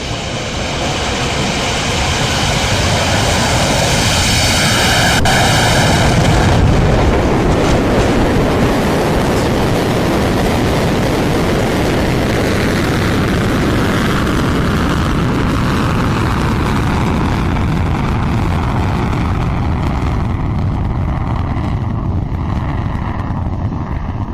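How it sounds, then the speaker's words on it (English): Firefly Alpha rocket lifting off from Vandenberg, California, a loud sustained roaring rumble that swells early and stays heavy and continuous, slowly thinning toward the end. "Liftoff of Firefly Alpha from Vandenberg, California."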